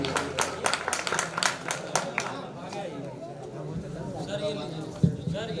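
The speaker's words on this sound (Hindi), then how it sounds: "एक बार जोरदार तालियां उनके लिए।" A Hindi kavi sammelan audience claps loudly for an honoured poet, giving a few seconds of dense, rhythmic applause that fades into a murmur of voices and talk from the hall.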